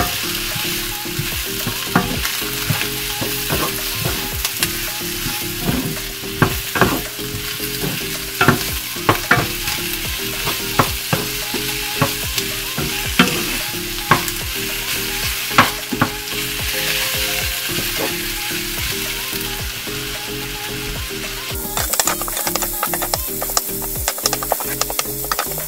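Lechon paksiw sizzles and fries in a pan while being stirred, a constant loud crackling hiss broken by frequent sharp scrapes and clicks of the utensil against the pan.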